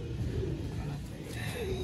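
A rare fancy pigeon from a Lahore breeder's loft coos in low, soft, rolling notes close by, with a faint hum in the background.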